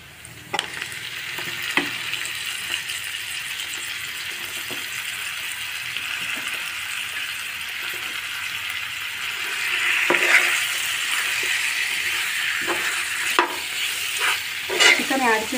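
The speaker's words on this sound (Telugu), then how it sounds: "తర్వాత ఇందులో మనం శుభ్రంగా కడిగి పెట్టుకున్న మన చికెన్ని యాడ్ చేసుకోవాలి." Washed chicken pieces sizzle in hot oil in a curry pan with curry leaves, with a loud continuous frying hiss, interrupted by repeated scraping strokes of a spoon stirring the pan, close up.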